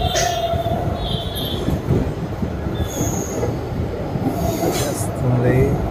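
The Tirupathi Express rolls across the Godavari bridge at Rajahmundry with a loud, constant roar of wheels and high metallic squeals heard from on board, no speech.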